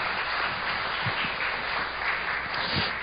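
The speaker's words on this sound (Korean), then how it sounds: "큰 박수로 맞이하겠습니다." Church congregation applauding as the pastor comes in, a steady, even wash of clapping that fills the room from start to finish at moderate volume.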